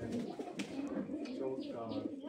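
Pigeons coo steadily in a loft of foreign fancy breeds such as Indian Lotan, Jacobin and racer, a close, continuous murmur with faint voices mixed in.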